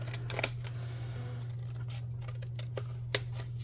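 Scissors snip through cardstock in a couple of sharp, close cuts amid handling noise, with a steady low hum running underneath throughout.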